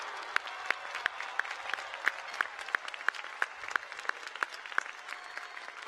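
Crowd at a Cal Poly spring commencement ceremony applauding, a steady wash of many hands clapping in a large space with sharper individual claps standing out throughout.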